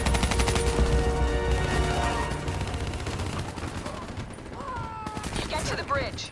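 Dense automatic gunfire in Call of Duty: Black Ops III rattles loudly as cover fire, bursts overlapping at first, then thinning as fainter shots and other game sounds follow.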